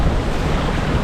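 Strong wind and rough waves at sea from a small fishing boat out on open water, a dense, steady roar of gusts buffeting the microphone over crashing surf, loud and unbroken.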